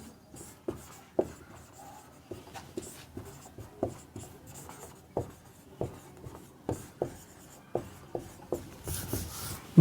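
Chalk or pen writing out the properties of light during a Class 10 physics lesson, a series of sharp scratchy taps and strokes in an irregular rhythm, close and fairly quiet, with no talking.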